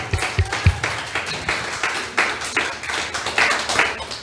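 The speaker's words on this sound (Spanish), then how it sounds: "Fuerte los aplausos al Señor." A church congregation clapping for the Lord during a Christmas service, a steady run of rhythmic clapping at moderate distance with a few sharper near claps at the start.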